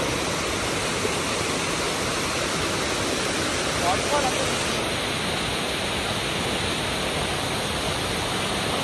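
Water pours over the Koyida waterfall near Hyderabad, making a continuous, even rushing roar that holds steady with no pauses.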